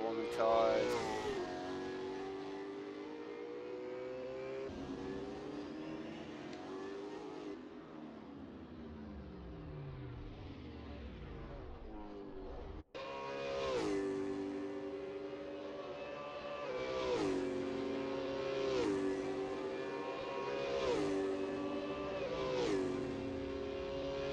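V8 Supercars race cars warm their tyres around the chicanes at the Melbourne Grand Prix circuit in 2019, with high engine notes rising and falling in repeated sweeps as several cars pass and brake, loud and sustained.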